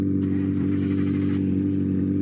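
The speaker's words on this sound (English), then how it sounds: "love the startups on the CCS. It sounds so good." Koenigsegg CCX hypercar engine idling heavily at a car show in Southwest Florida, a loud continuous low rumble with some revving texture, close and steady throughout.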